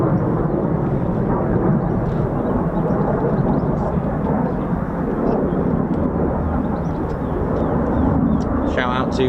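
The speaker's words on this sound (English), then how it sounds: "Two F-15s." Two US Air Force F-15 fighter jets from the 48th Fighter Wing at RAF Lakenheath fly with a loud, continuous rumbling roar that holds steady throughout, and a voice can be heard under the noise.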